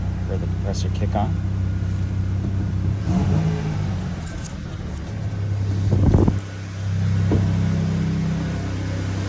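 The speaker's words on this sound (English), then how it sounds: "Hear the compressor kick on." A 2000 Toyota Tacoma engine idles with a steady low rumble while someone talks over it; around the middle, a brief surge and shift in tone marks the air-conditioning compressor kicking on before the drone settles again.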